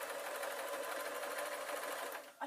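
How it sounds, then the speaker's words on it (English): A sewing machine runs steadily, stitching lace onto a mini witch's hat with a birdcage veil, its fast even whirr continuous and close, then easing off at the very end with no talk. "I'm going to use the sewing machine"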